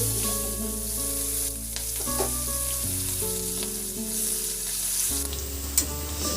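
Onion and green chili fry in leftover fish oil in a wok with a constant close sizzle and occasional stirring scrapes, while steady musical tones play underneath and no one talks.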